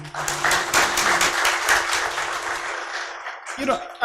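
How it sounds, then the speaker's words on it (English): Audience applause for the speakers at a Pathfinder group Citadel event, a steady wash of clapping for about three seconds with a voice over it, then fading out. "Please, a round of applause for everybody."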